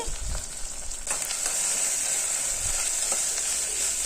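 Mint and carrot pieces mixed into dal-rice khichdi in a pot, giving a continuous soft frying hiss with a few light knocks and scrapes of stirring.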